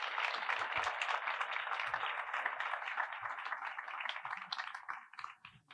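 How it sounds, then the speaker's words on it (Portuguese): An audience at an evening talk applauds warmly, a dense, sustained wash of clapping that gradually thins and fades toward the end. "Palmas para ela."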